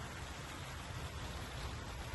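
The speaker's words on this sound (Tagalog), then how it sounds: "Umuulan ang paligid." Steady rain falling outdoors during a Saturday-night cabin stay, a continuous broadband hiss with no distinct drops or breaks, moderately faint and unbroken throughout.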